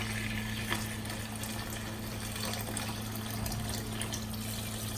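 Yakhni stock for mutton polao pours into a hot pot with a steady, close watery rush and sizzle, alone and fairly faint with a low hum underneath.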